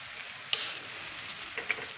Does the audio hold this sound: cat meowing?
no